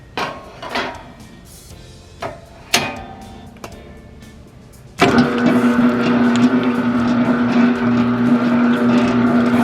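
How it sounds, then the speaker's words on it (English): An electric mixer starts up and runs steadily, loud and continuous with a motor hum, mixing white polymer clay with green food coloring for slime; a few handling knocks precede it. "So in my mixer right now I have a couple of different clays."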